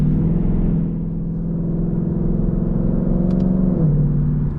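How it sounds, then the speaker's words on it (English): A 460-horsepower 2022 Ford Mustang GT engine holds a loud, steady low rumble from inside the car, with a slight drop in pitch near the end and no talking. "hear some engine noises"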